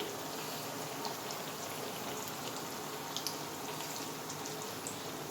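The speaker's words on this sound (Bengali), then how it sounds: "এরপর ফ্রাই প্যানে তেল দিয়ে ভেজে নিতে হবে একদম ডুবু ইন্ডাকশনে ভাজছি" Puris deep-frying in oil in a frying pan on an induction cooker, giving a steady, fine crackling sizzle with scattered pops, even and moderately quiet throughout.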